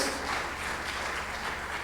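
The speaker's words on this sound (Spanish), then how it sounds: "Dale otro aplauso de gratitud." A church congregation applauds in gratitude during a sermon, a soft, even spread of clapping from a crowd heard at some distance, steady and without speech over it.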